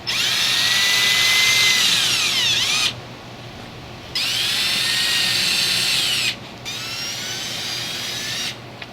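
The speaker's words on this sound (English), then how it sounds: "I'm going to drill a pilot hole to get all these started" A power drill drilling a pilot hole whirs at high speed in three sustained bursts, pitch dipping as it bites in, with brief quiet pauses between runs.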